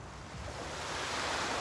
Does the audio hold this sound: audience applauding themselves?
no